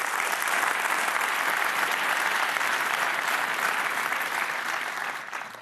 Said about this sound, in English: Now that deserves a round of applause.